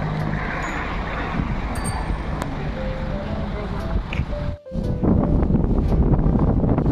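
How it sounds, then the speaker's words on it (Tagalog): Strong wind buffets the microphone at a windy hilltop windmill site, a loud, rumbling roar that briefly drops out, then returns with people talking over it. "Ayan sobrang hangin po dito."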